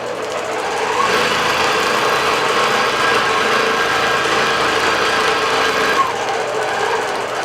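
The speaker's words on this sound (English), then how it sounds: "You can see it stitching out that alfresco flower" A digital quilting machine stitching out a flower design, a steady fast mechanical whirring and needle buzz, loud and close, running continuously with a slight shift midway and no talk.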